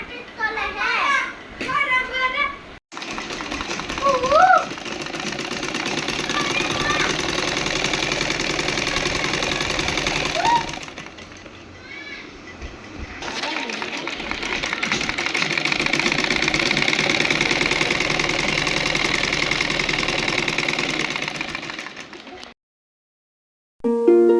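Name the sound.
sewing machine stitching a salwar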